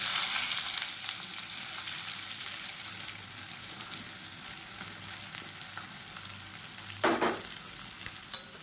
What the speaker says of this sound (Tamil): இது வந்து நல்லா சிவந்து வர அளவுக்கு வதக்கி விட்டுக்கலாம்